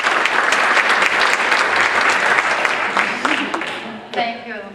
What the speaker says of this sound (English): Thank you for that feeble applause.